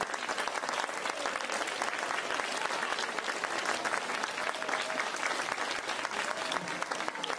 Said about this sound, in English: give a great round of applause to all our performers